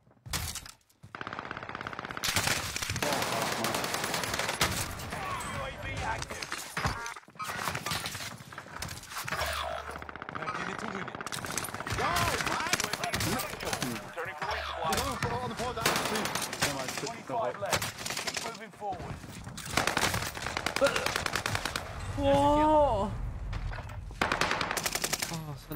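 Video game gunfire during an online tournament match: rapid automatic bursts and single shots crackle loudly in repeated volleys, with players talking over the action.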